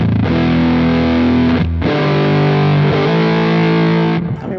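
Electric guitar played through a Big Muff fuzz capture on a Quad Cortex, thick saturated sustained chords, loud and continuous with a brief break near the start and a fade at the end.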